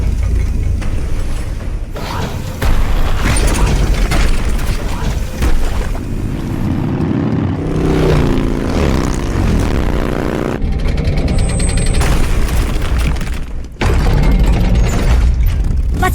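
Explosives detonating on a bridge strut in the stealth action game Metal Gear Solid 3, a loud sustained rumble and crash of the blast with debris and mechanical clatter, over game music, filling most of the scene.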